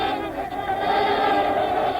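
Trumpeter swan call in Yellowstone National Park grassland, a loud, low, bugle-like honking voice sustained across the whole stretch with dense layered tones.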